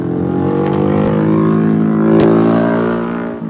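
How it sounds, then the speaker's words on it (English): A loud, steady engine drone from a 300cc street motorcycle with a straight-pipe exhaust, with a rough, buzzing exhaust tone throughout, rising slightly in pitch as it passes close by. "Sounds like a 300cc street bike with a straight pipe on it."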